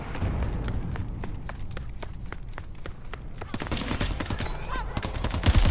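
Rapid gunfire from the video game Crackdown 3 rattles in dense bursts of sharp shots, then grows louder and more chaotic with other game effects after a few seconds.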